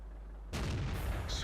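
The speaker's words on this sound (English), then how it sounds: "Oh, and I take a shot there, probably from the Centurion." A tank shell strikes the player's AMX AC 46 tank in World of Tanks with a sudden loud, close boom that rolls on into a sustained rumble after a short quiet lead-in.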